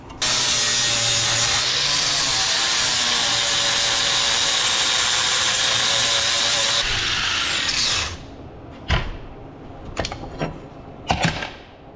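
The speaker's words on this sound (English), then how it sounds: "grind off your old weld" Grinder grinding an old weld off metal, a loud continuous high-pitched whine with dense grinding noise for about eight seconds, then stopping and leaving a few brief knocks and clanks.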